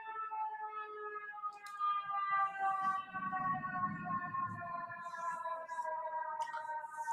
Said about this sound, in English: Oh, it's siren time.